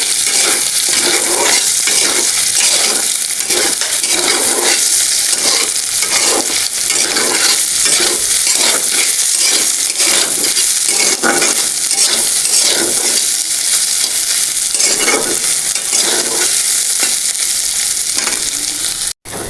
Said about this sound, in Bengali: ভালো করে ভেজে নেব সোয়াবিনটা